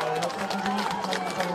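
An audience at a Korean by-election campaign event applauds to welcome a Republican Party leader, a dense crowd clapping under a speaker's voice on a PA system, with cheering mixed in.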